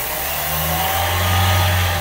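A car engine runs rough and misfires, lean from an intake manifold leak, a close steady mid-pitched drone that swells slightly as if revving, with no talk over it.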